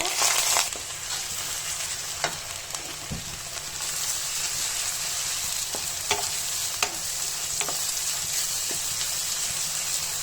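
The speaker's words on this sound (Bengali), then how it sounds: "সরিষা তেল দিয়ে দিচ্ছি তেজপাতা গরম মতো এলাচ দিয়ে দিচ্ছি পেঁয়াজ দিয়ে দিব" Bay leaf, cardamom and onion fry in hot mustard oil for a beef tehari, making a loud, continuous close sizzle punctuated by occasional stirring clicks, with no voices.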